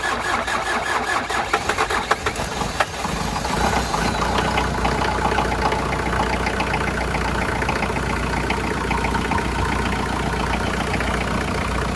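A Jeep Cherokee XJ engine cranks and catches after a fuel filter repair, then settles into a steady, loud idle with a rough, slightly knocking mechanical rumble close up.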